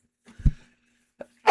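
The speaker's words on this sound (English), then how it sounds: "I sneezed." A single sneeze indoors: a short intake breath, then a sharp burst, followed by a quiet sniff and a brief breathy sound, close to the microphone.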